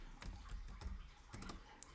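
Fingers tap on a computer keyboard in quick, soft, irregular clicks, faint and close, with no talking.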